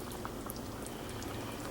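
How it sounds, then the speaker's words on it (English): Thick chicken curry stew glugs and bubbles as it pours over rice, soft wet crackles and pops running steadily for a couple of seconds. "we're just gonna pour it over that rice"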